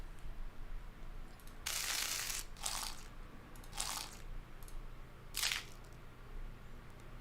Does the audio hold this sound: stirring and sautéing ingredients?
no